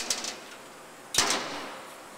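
The cover on a 7-inch Modern Machine Tool 6KD automatic tube chamfer and cut-off machine is shut, giving a faint light knock and then one sharper clack with a short metallic ring, in a quiet shop.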